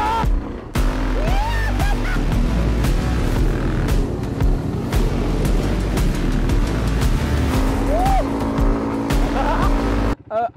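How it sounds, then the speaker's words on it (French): A borrowed quad bike being ridden hard, its engine loud and continuous throughout with rising and falling revs and occasional tire scrubbing, close to the listener. "Aujourd'hui, on m'a prêté un quad."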